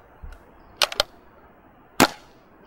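A CCM T2 paintball marker fitted with a Techt Hush Bolt fires three sharp, close pops, two in quick succession and then one more after a brief pause.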